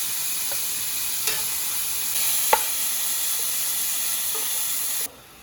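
Marinated black mushrooms and meat fry in a pan for Korean japchae, making a steady, hissing sizzle with a few faint clicks from the utensil before the sound cuts off abruptly near the end.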